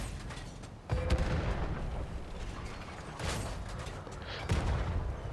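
A tank cannon booms in World of Tanks Modern Armor, heavy shots landing near the start and again later over a constant rumbling engine and battle din.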